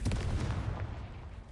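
A Confringo blasting spell explodes in Hogwarts Legacy, a dense, booming burst of low rumble that stays loud for the whole short moment with no voice over it.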